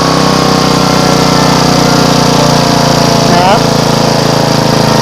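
A used Honda portable generator engine runs loud and steady at close range while its speed is adjusted with a screwdriver to lower the voltage, with a brief pitch shift partway through.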